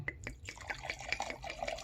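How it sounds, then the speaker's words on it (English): White Moscato wine trickling and dripping into a glass, with light splashy drips and small clinks, close and fairly quiet. "I'm going to pour the white Moscato"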